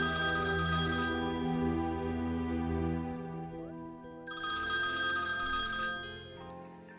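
A telephone rings with a bright, steady electronic ring in two long bursts separated by a short pause, loud and close with no talk over it.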